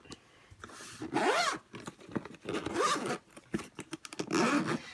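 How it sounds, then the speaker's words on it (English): Fabric pencil case holding Prismacolor colored pencils, pens and markers being zipped shut: three separate zipper pulls, each a rising rasp lasting under a second, close and fairly loud with quiet handling in between. "So I'm going to go ahead and zip it."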